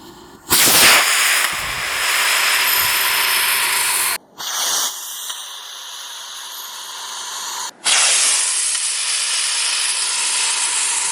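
A homemade rocket built from washing machine parts ignites with a sudden loud hissing rush of exhaust. The roaring spray cuts out and restarts in bursts, staying loud and close throughout.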